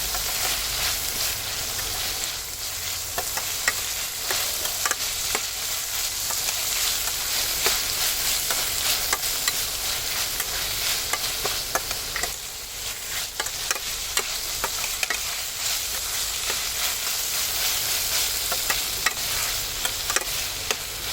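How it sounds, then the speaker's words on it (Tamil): Onions, garlic and curry leaves sautéing in a pan for a poori masala, a steady close sizzle and fry with stirring scrapes running throughout, no voices. "போட்டுட்டு நல்லா வதக்கிடுங்க. வெங்காயம் வந்து நல்லா சாஃப்டாக வதங்கணும்."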